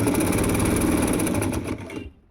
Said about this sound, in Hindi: अब मैं यहाँ पे सीधी एक सिलाई लगा लेती हूँ